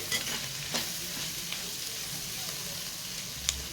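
Ivy gourd (dondakaya) fries in a pan with a soft, steady sizzle, broken by a few light scrapes of stirring, fairly quiet and close with no talk.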